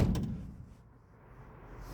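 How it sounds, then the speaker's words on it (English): A door slams shut in a frame that was bent by strong wind and has just been straightened, giving a single solid thud at the start that decays into quiet room tone. "Okay, that one's not bad, but I don't have to slam it as hard as I used to."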